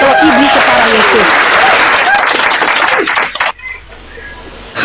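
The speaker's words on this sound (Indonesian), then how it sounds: "Tepuk tangan host, luar biasa." A debate audience bursts into loud applause mixed with cheering voices, dense and close for about three seconds before cutting off abruptly into near silence.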